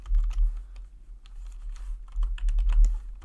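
Python code typed on a computer keyboard, quick irregular key clicks in near continuous runs, close and fairly loud over a low background rumble.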